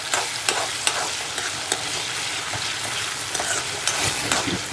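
A tomato mix sizzles steadily in a hot pan while a spoon stirs it, scraping and tapping the pan at irregular intervals, close up and with no talking.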